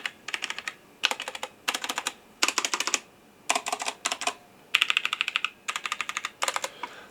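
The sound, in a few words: typing on Roccat Vulcan 121 keyboard with brown switches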